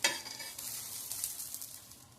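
Boiled potato patties shallow frying in oil in a pan, producing a bright, steady hiss of sizzling that sounds close and fairly loud for a couple of seconds.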